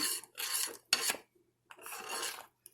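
A spoon scrapes and rasps around a pot while stirring coconut cream into Jamaican cornmeal porridge, close and loud in several separate strokes with short pauses between them.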